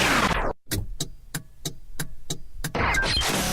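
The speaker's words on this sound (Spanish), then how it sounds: "Ah, cuando pones la direccional." Car turn signal clicking in a steady rhythm of about eight evenly spaced sharp ticks, close and clear on their own, between louder bursts of other sound at the start and end.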